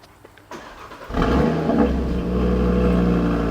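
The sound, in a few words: car engine starting and revving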